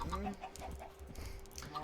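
Several Minecraft chickens cluck in short, quick bursts close by, overlapping in a busy, rhythmic chatter.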